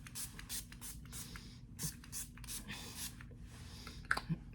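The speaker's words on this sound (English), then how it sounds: "I'm gonna try this Milani setting spray." Repeated short hissing spritzes from a bottle of makeup setting spray, close and fairly quiet, several bursts in irregular succession over faint background noise.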